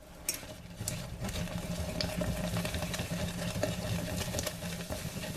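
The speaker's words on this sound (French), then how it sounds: "on ajoute la farine d'un coup et on mélange" A wooden spoon or spatula stirs flour into a boiling water-and-butter mixture in a saucepan to form choux pastry dough: a steady close scraping and slapping churn runs throughout, over a faint sizzle from the hot pan.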